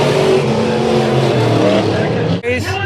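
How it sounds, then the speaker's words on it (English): Sport Mod race cars competing in a heat race at Bakersfield Speedway, their engines a loud, continuous roar close by, with a brief dip and then a higher whine as a car passes near the end. "John Piker out of turn number 4 will win the third heat race of the Sport Mods."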